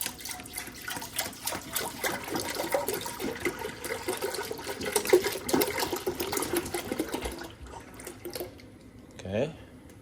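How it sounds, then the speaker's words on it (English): Milk poured from a half-gallon jug into a pan on a low flame for homemade mozzarella, a steady rushing splash lasting several seconds before tapering off, close by, with some talking mixed in. "put it on kind of a low flame and pour the first half gallon in"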